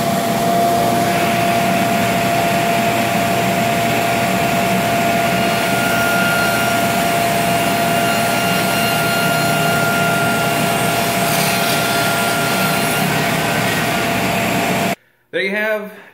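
A saw cuts steadily through wooden octagonal tent poles, a continuous loud rasping drone that runs unbroken for most of the stretch, then stops abruptly, leaving a brief quieter tail at the very end.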